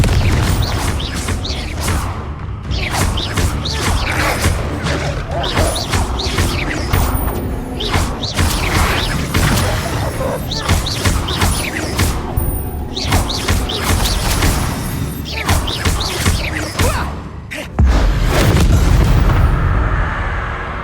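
In Hogwarts Legacy combat, the Confringo spell sets off a series of loud booming blasts and thuds with whooshing bursts, coming in rapid repeated waves and ending in a heavy low rumble.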